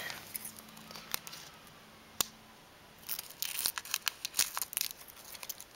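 Scissors snip open a Pokemon booster pack from a Crimson Invasion blister, producing faint crinkling foil wrapper sounds and a few sharp cuts, growing busier with rustling and crackling toward the end.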